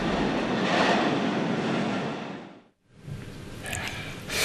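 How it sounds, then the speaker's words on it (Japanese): A train rumbles along its rails with dense, continuous noise, briefly dropping to near silence before the rolling sound builds again. "タタンタタンタタン、電車が走ります"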